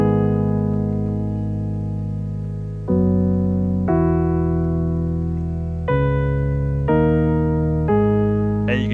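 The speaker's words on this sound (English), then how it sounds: "add a simpler instrument and then add a piano sample to it" A piano sample loaded into a Simpler instrument plays a slow series of sustained chords or notes, each ringing and fading before the next one enters. The sound is clean and fairly loud, with no talking.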